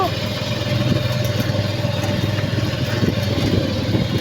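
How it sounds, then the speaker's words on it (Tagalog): Several motorcycles idle and rumble nearby in a village setting, a steady mid-pitched engine drone running through the whole stretch, with faint voices in the background. "Ang dami pong motor dito."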